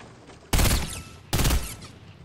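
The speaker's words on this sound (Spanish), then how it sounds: "Imagino que me va a disparar ahora." Two loud, close gunshot blasts about 0.8 seconds apart in Fortnite, each a sharp burst that rings out briefly before fading over a low game background.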